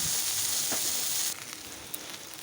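Spice paste poured into hot oil with fried vegetables, a loud, steady sizzle that drops sharply partway through and settles into a quieter, continuing fry.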